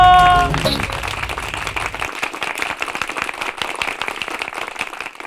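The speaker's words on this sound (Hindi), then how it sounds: "जोरदार तालियां बच्चों।" Children give loud, lively applause with rapid, dense clapping that follows a brief musical sting and slowly thins out.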